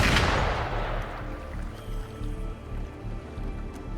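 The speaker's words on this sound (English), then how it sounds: "Gunfire! We've got intruders." A single loud gunshot blast in the video game Wuthering Waves opens and fades quickly, followed by a low, steady rumble.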